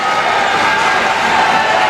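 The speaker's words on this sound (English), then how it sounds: "Crowd getting into it." Basketball crowd at a men's college game against John Carroll, a dense, steady roar of voices filling the gym throughout, loud and continuous with no single standout shout.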